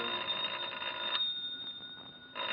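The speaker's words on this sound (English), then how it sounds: "It's not the door, it's the phone." A telephone rings at night, a bright continuous bell trill that drops out briefly midway and then resumes, alone with no talk.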